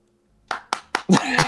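Three sharp, separate hand claps come close together, then a fourth clap mixes into the start of someone talking. The room is otherwise quiet.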